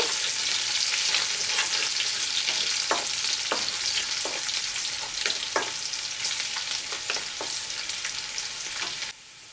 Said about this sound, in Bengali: দেখুন আমি পেঁয়াজটা ভেজে নিয়েছি।